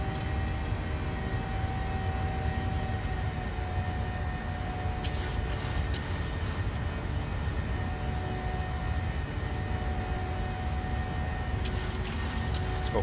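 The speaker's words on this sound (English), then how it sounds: "Climb power's coming in, bring the nose down." Airliner jet engines spooling at climb power in Microsoft Flight Simulator, a steady broadband roar with a low rumble and faint tonal whine running unbroken throughout.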